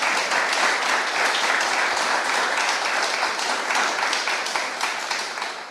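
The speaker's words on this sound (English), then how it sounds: "And while I thank you for your applause" Audience applause at a government funding announcement for veterans' housing organizations in Nova Scotia, a steady, dense clapping that fills the room and holds for several seconds before beginning to taper.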